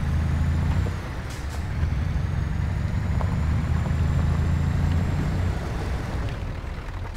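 Scania truck in Euro Truck Simulator 2 with air brakes hissing loudly over a low engine rumble, one long brake release followed by a sustained hiss, then the hiss fading as the engine keeps droning underneath.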